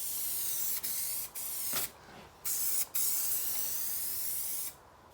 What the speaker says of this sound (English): Luckily I've got another contact adhesive spray.